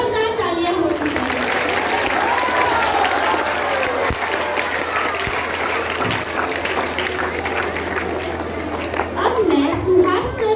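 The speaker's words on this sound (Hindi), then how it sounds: "सभी कलाकारों के लिए जोरदार तालियां होती हैं।" Enthusiastic applause fills a school Hindi Diwas celebration, a steady loud crowd clapping for the performers that keeps going the whole time, with faint voices underneath.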